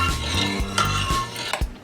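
A spoon stirs a tomato-based Sindhi kadhi curry thickened with ground flour in a pot, giving soft scraping and clinking against the metal, close up, with a faint simmer underneath.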